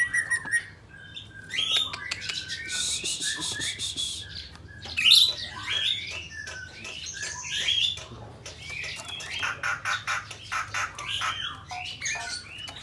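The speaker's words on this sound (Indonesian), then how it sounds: "Burung murai air sudah gacor." A murai air songbird sings a lively run of high chirps, whistles and trills, near and fairly clear over a low background hum, with brief pauses between bursts and no talk.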